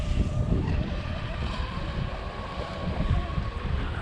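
A Spartan RC boat's motor runs steadily out on a lake, a continuous buzzing drone mixed with wind noise on the microphone, fairly loud and without pause.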